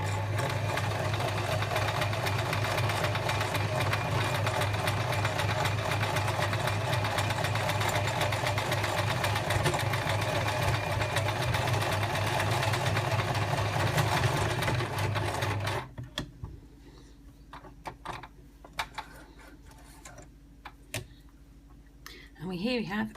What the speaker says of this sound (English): here we go with the gathering